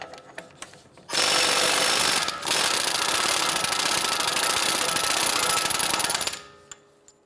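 A pneumatic impact wrench with a 35 mm socket hammers loose the front axle nut on a 2011-2018 Ram 1500, a loud continuous rattling burst of about five seconds with a brief break near the start, and no talking.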